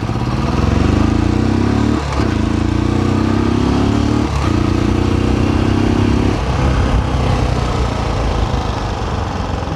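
Royal Enfield Classic 350 BS6 motorcycle pulls away from first gear and climbs through the gears, a loud, close thumping single-cylinder exhaust rising in pitch with three brief dips at the gear changes.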